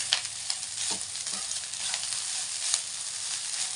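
Cooked coconut rice is stirred in a pan with ghee, giving a steady close sizzle broken by soft scraping stirs of the spoon, with no voices.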